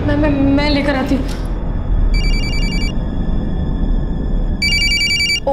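A telephone rings in two electronic bursts, the first around two seconds in and the second near the end, loud and clear over steady background noise, with a voice briefly heard at the start.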